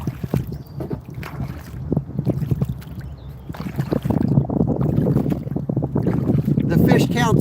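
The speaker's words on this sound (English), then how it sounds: "Sorry about the wind noise." Strong gusts buffet an outdoor microphone on a boat, a rough low rumble that rises and falls and grows steadier toward the end, with faint voices underneath.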